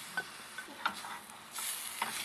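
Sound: stirring flour into meatball stroganoff in pan

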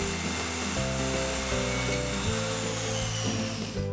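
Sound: saw cutting sofa table legs

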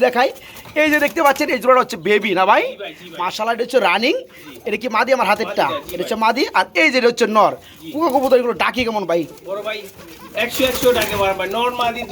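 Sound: many pigeons cooing together

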